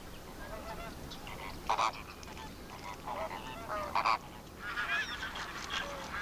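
Distant aquatic birds honk and call repeatedly at a desert lake in the Rann of Kutch, a flock's scattered cries rising over a steady outdoor hiss.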